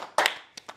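A few sharp hand claps ring out close and quiet: a quick double clap followed by two more spaced single claps.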